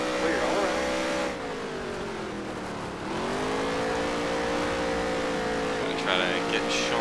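Race car engine held near redline in the NASCAR Heat 3 racing video game, a loud sustained whine that dips briefly and climbs again, steady throughout with faint voices underneath.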